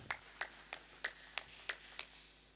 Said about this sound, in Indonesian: Tepuk tangan buat Gus Titus.